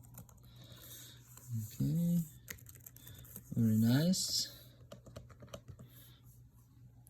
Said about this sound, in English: Let's take a look at the keyboard.